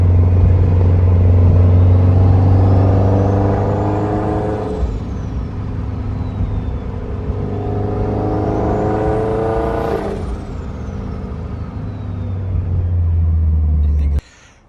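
A Toyota 86 fitted with a JDL turbo kit being driven, engine rumble rising and falling through two long accelerations with a whining turbo note sweeping up and dropping back, steady and close.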